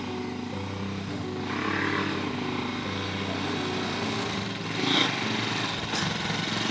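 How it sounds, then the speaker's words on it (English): Motorbike engine idling and revving nearby, a steady buzzing drone with slight surges in pitch and one brief louder rise, running alone without talk. "I want to ride this motorbike"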